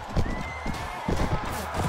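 In the Mount and Blade video game, a horse's hooves clip-clop in a fast galloping rhythm and a neigh rises partway through, set against busy battle noise.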